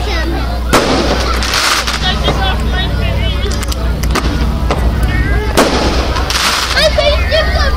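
Loud outdoor fireworks burst in sharp booms and crackling volleys, several sudden blasts spread across the stretch, with voices and crowd noise mixed in between.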